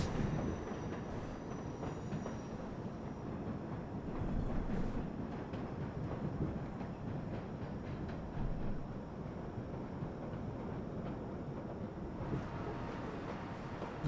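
Simulated subway train in World of Subways 4 pulling into Court Street station as the number 7 local, a steady rumbling rolling roar with faint wheel squeal, sustained throughout, no one speaking.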